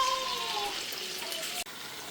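Restaurant-style chicken lollipops sizzle steadily in hot oil, a dense close-up frying hiss that holds throughout with a brief dip near the end.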